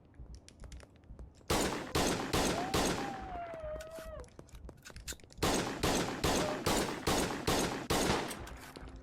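Video game gunshots in Schedule 1 crack out in bursts of repeated sharp reports, loud and close, spaced unevenly across the stretch with short pauses between volleys.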